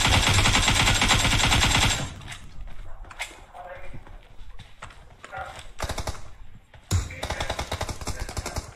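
Bursts of automatic gunfire in the PUBG Mobile team deathmatch map Warehouse come as rapid, loud volleys, with shorter sharp shot clusters in between and a voice talking over parts of it.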